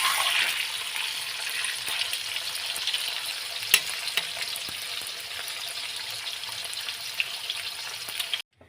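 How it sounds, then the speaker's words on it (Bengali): Chital fish bori dumplings deep frying in hot oil give a constant dense crackling sizzle, close and even, with a few sharp pops and spoon knocks, before cutting off abruptly at the end. "বড়িগুলোকে লাল লাল করে ভেজে নেব"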